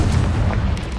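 A Confringo blasting spell explodes in Hogwarts Legacy, a loud, heavy, low rumbling boom that fills the whole second with no gaps.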